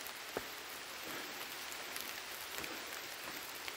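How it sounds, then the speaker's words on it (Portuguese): Rain falling on a Saturday morning, a faint, even hiss of drops with a few soft taps, steady and quiet with no talking. "Não tem como ficar debaixo de chuva, né?"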